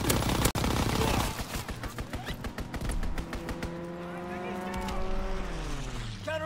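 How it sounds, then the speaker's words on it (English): A fighter plane strafes a hardpoint in Call of Duty WWII multiplayer: a loud, dense rattle of rapid gunfire and impacts, then engine roar with pitch sweeping down as the aircraft passes overhead amid ongoing battle noise. "Strafing the target."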